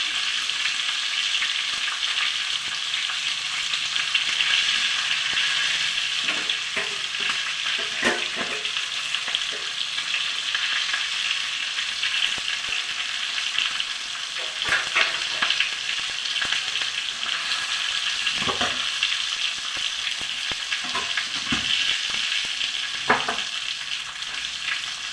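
Stuffed green chillies fry in a pan on a gas stove turned up high, a loud continuous sizzle and crackle with occasional stirring scrapes, no voices.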